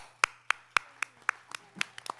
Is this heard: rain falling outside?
no